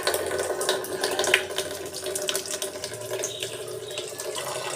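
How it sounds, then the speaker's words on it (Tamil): Water pours steadily from a tap into a home fish tank after the washed stones are placed inside, a continuous close splashing stream without talk. "அது இப்போ நம்ம தண்ணி ஊற்றிடலாம்."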